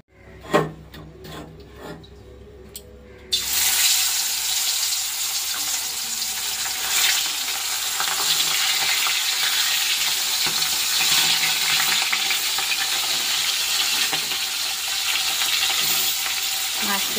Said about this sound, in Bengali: তো চলো মাছটা ভেজে নিই।